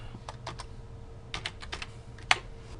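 Quiet bursts of typing on a computer keyboard, small clusters of soft key taps separated by pauses, ending with one sharper, louder keystroke.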